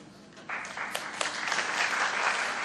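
An audience at a museum panel discussion breaks into applause for the session hosts, starting abruptly and swelling into steady, full clapping that fills the room.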